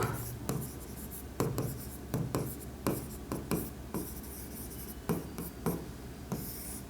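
Writing during a classroom lesson: close, scratchy strokes come in a quick, uneven rhythm of short bursts, with brief pauses between words.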